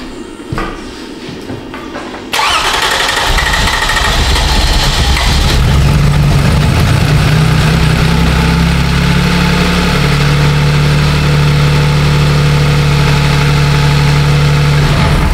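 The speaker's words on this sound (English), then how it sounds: "we'll get her cranking" A Toyota Sienna with a P0340 camshaft sensor fault cranks and catches, then settles into a loud, steady idle hum with a faint rising tone for the rest of the clip.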